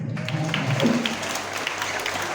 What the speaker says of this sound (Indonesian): Dan kita tepuk tangan kepada Mas Rida